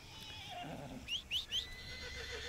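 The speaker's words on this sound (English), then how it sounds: "I don't want to keep riding this crazy horse." A horse whinnies in the video game Red Dead Redemption 2, a short series of three faint high neighs over quiet ambient outdoor sound.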